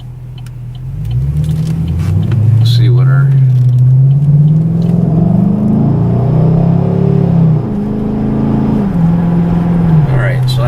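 Camaro SS V8 with an MRT cat-back exhaust accelerating in traffic, a deep steady engine rumble rising and shifting in pitch through gears, heard from inside the car with a voice talking over it.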